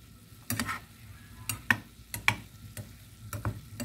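Pork liver cooks in a pan over lowered heat for homemade dog food, with a quiet steady sizzle broken by several sharp clicks and knocks of a utensil against the pan.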